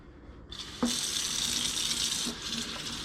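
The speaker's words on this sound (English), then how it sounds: "I'm going to turn the water on" A kitchen-style water tap turns on at about half a second and runs steadily, hissing and splashing as it rinses a K&N air filter from the inside out, with a brief knock near the start and no talking.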